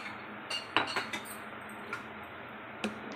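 A spoon clinks against a pot while stirring cardamom powder into milk with vermicelli, giving a few light metallic taps and scrapes, close but soft, with no talking.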